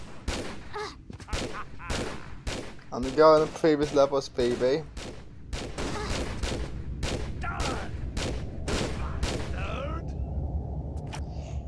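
Gunshots ring out in a gunfight in the Tomb Raider level editor game Coyote Creek, a rapid run of sharp, loud cracks spread through the scene, with a voice talking over parts of it.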